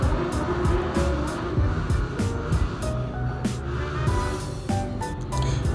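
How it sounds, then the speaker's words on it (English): Steady traffic rumble of motorcycles passing on a nearby neighborhood street, engines droning continuously with occasional louder passes, no voices. "in this neighborhood there's too much motorcycles and everything background"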